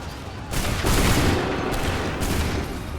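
A volley of musket gunfire in Assassin's Creed III, a dense rolling crackle of many shots swelling to a loud peak near the start and holding as a sustained, booming roar.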